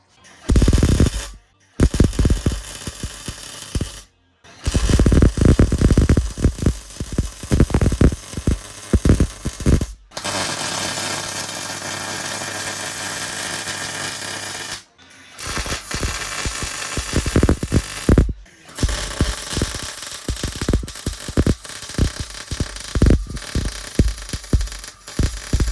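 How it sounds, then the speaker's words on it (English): MIG welding a steel plate into the engine bay of a Honda Fit/Jazz being prepared for a K20 engine swap, with long sustained crackling weld runs broken by short pauses and a louder steady buzzing stretch near the middle. "There you go, that's all welded in."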